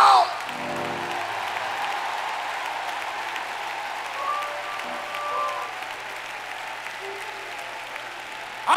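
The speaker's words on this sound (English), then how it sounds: "I want you to clap your hands and shout." Camp meeting congregation clapping steadily in a broad, even wash with scattered voices, fairly distant and moderate in level throughout.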